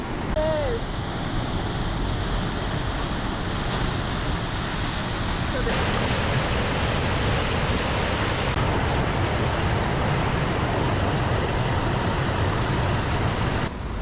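A waterfall plunges into a gorge in Mpumalanga, a loud, unbroken broadband roar of falling water that holds steady from start to end, with no one talking.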